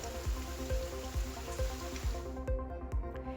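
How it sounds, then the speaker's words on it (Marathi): Steady heavy monsoon rain with strong wind pours down with a constant hiss in Maharashtra, joined by regular low thumping beats throughout. "ग्रामीण भागांमध्ये वेगवान वाऱ्यासह पावसाचं जोर कायम"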